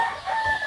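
Chickens on a poultry farm, a brief close clucking and crowing call sounding alone.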